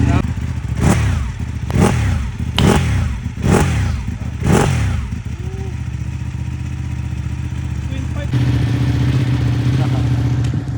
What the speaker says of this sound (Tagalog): Gusto ko talaga marinig yung tunog ng Ducati